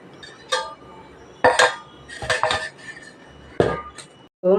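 A pot lid is set over a bowl of soaked idli batter in a home kitchen, giving a few sharp metallic clinks and clatters with quiet gaps between them.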